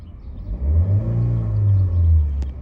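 A car with a swapped K24 engine idles, making a low, steady rumble close by that swells and eases slightly, with no one talking.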